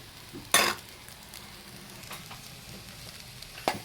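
Rice fries in a pan for khichdi. A soft, steady sizzle runs throughout, with a sharp hissing burst near the start and another near the end, as if from stirring or adding ingredients.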